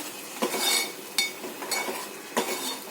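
Spice mixture stirred into a pan with reddened garlic and curry leaves for a pomfret curry, with a few distinct spoon scrapes and clinks against the metal over a faint background hiss; no talk.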